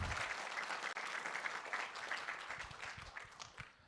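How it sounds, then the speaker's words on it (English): Applause from the audience at the Handmade Seattle 2024 programming conference, a steady, fairly distant spread of clapping from many hands that holds for several seconds and thins slightly toward the end. "So round of applause to all of the speakers, all the presenters, all the audience."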